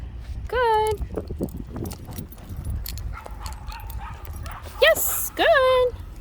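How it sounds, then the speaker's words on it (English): Dogs bark in sharp, loud yelps as they rush a fence, with a couple of clear barking bursts near the start and end amid outdoor background noise. "So the dogs are kind of rushing the fence."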